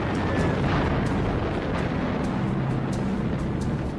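Bombs exploding during an air raid on Tokyo make a dense, roaring rumble of blasts with repeated sharp crackling bursts on top, loud and continuous throughout.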